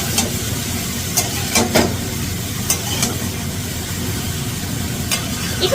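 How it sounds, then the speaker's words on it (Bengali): Bottle gourd and prawns sizzle in a pan while a utensil stirs them, giving a steady frying hiss broken by several sharp scraping clinks close by. "এবার ভালো করে নাড়াচাড়া করে নেব।"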